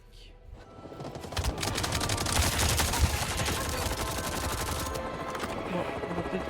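Assault rifle gunfire in the video game Avatar Frontiers of Pandora, a sustained rapid burst of automatic shots building up and holding for several seconds over game background sound.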